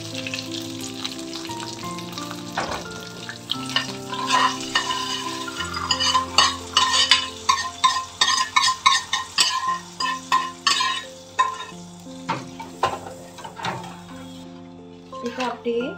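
Curry leaves crackle and crisp in hot oil during vegetarian home cooking, a steady sizzle with scattered sharp pops and utensil clinks, while a voice talks over it and faint music plays underneath.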